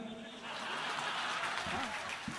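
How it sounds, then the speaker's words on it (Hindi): An audience at a Hindi kavi sammelan poetry recital breaks into dense, sustained applause that swells after a brief pause and holds steady near and loud, with a few chuckles mixed in. "एक बार जोरदार तालियां बजा दीजिएगा आप"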